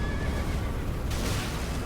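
A horse in Elden Ring whinnies loudly, a strong neigh with a faint thud of hooves partway through, close and alone without voices.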